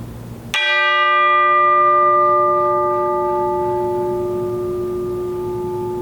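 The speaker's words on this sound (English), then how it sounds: "I was taught the bell hitting technique" A single bell struck once with a hand technique in a recording studio, a sharp clang followed by a long, clear ringing tone that fades slowly over several seconds.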